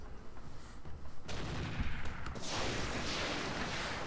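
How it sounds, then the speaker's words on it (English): Mech weapons fire together in the video game Roguetech, a dense burst of booming shots and explosions swelling into a sustained loud roar of gunfire that carries on to the end. "I'm gonna fire everything on this guy."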